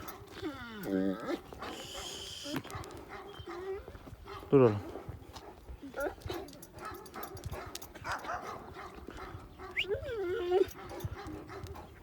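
A white leashed dog whimpers and gives short yelps amid outdoor commotion, with someone speaking briefly and other animal and movement noises around.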